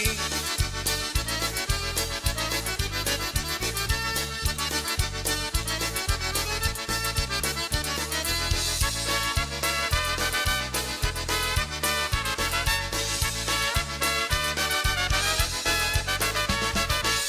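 Polka music playing, loud and continuous with a bouncy oom-pah bass beat and bright melody throughout.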